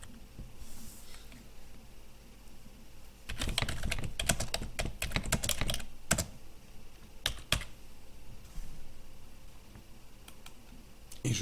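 Quick bursts of keystrokes on a computer keyboard as a title is typed, a dense cluster of clicks followed by a few isolated taps, close and fairly quiet.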